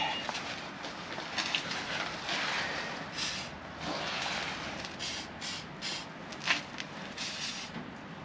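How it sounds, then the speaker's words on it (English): A small brush scrubs gunk and grit off a KTM motorcycle front wheel, making a continuous close rasping scrub in uneven strokes, with faint birds in the background. "got a little brush to get in there, clean out some of the gunk and the grit"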